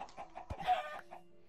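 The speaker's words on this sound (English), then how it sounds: "Kill this chicken." A chicken in the video game Minecraft gives a few faint, soft clucks in a short, quiet burst.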